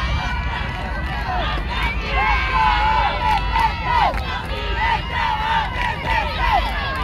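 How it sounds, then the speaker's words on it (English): A youth eight-versus-eight football championship crowd cheers and shouts, loud sustained roaring and yelling with shrill voices rising above the din. "This crowd is insane behind us."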